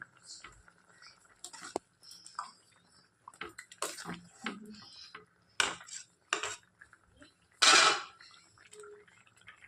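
Pineapple chutney being stirred with jaggery in a pot, intermittent metal spoon clinks and scrapes against the vessel in separate bursts, close and fairly sparse, with no steady bubbling.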